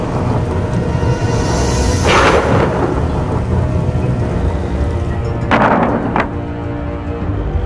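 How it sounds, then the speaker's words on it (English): Thunderstorm with heavy rain falling steadily and two loud rolling thunder crashes rising out of the downpour, close and full, no voices. "this is some storm we're having"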